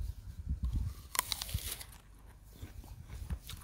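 A crisp, freshly picked backyard apple bitten into, giving a sharp crunch followed by a few softer chewing crunches, close and fairly quiet with no talking.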